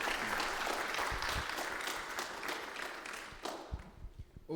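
Warm applause from an audience at a preschool Christmas nativity play. The dense clapping holds for a few seconds, then thins into scattered claps and fades.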